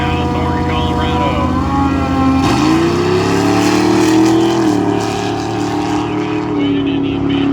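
A GMC truck and a 2001 Honda car line up at a dragstrip, loud engines droning and revving, one pitch dropping then climbing, with a voice over the noise.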